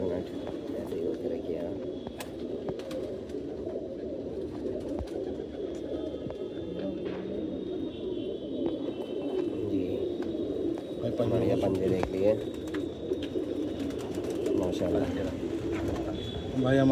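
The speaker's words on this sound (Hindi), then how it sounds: "बिल्कुल बॉर्डर वाला कबूतर है हमारा।" Tournament racing pigeons coo in low, repeated throaty calls close by, layered over one another while a person speaks intermittently.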